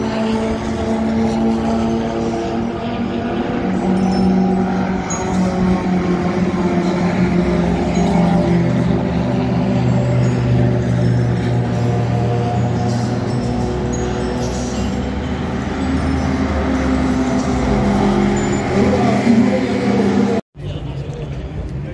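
Porsche race cars at Spa-Francorchamps, a steady loud engine roar from cars taking a corner, continuous for about twenty seconds with people talking over it.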